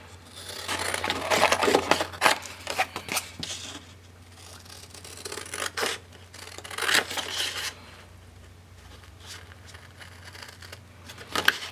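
Scissors snip and trim cardstock paper for a DIY scrapbook envelope album, giving a run of close, soft, irregular cutting and crinkling sounds in scattered bursts with quieter pauses between.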